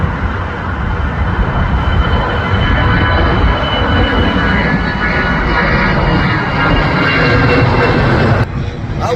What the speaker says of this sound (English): There's supposed to be a plane taking off